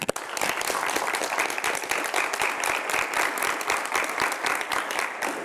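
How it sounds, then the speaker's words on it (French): Studio audience on a French-language TV debate show breaking into sustained applause: a dense, steady wash of many hands clapping for several seconds, with no talking over it. "je vous demande tous d'applaudir"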